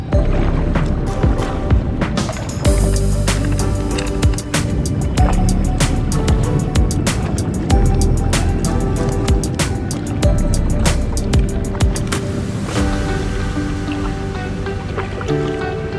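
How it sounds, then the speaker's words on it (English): Choppy boat wake splashes and slaps against a kayak in Cleveland's inner harbor on the Cuyahoga River, loud, close splashing and water rushing throughout, with no talking. "Wake blasts us in the face"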